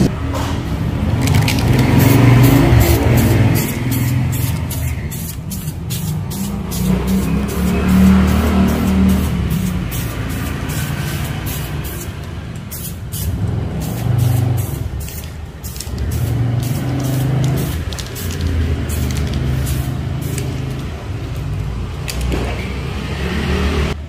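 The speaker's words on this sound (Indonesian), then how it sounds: "disemprot tipis-tipis untuk awalan ya" A spray gun lays thin coats of paint on a Honda Vario 150 motorcycle body, giving a loud, steady hissing rush that holds for a long stretch with small shifts in strength.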